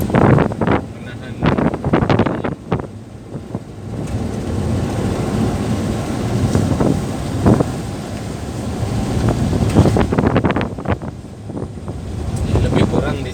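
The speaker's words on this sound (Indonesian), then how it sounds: "Angin kencang." Strong wind in Sabang roars in steady gusts across the microphone, a loud broadband rush with sharp buffeting bursts near the start and toward the end.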